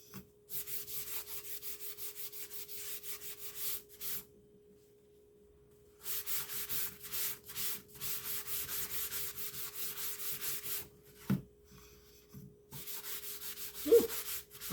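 Wax being rubbed onto a painted surface in bursts of rapid scratchy strokes separated by pauses, with a faint constant tone underneath and a couple of sharp knocks toward the end.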